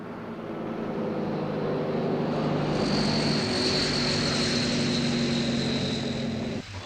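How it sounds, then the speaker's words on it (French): Transall C-160 twin-propeller military transport aircraft, a loud sustained engine and propeller drone with steady tonal hum, holding for several seconds before cutting off abruptly. "par air, en particulier dans l'avion Transal C-160,"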